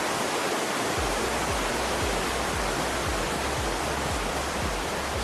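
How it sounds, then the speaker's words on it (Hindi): Water channels in the Barir Valley, Kalash, rushing side by side in a loud, continuous roar of flowing stream water, with a rhythmic low thumping beneath the rush. "पानी के चैनल साथ साथ जा रहे हैं।"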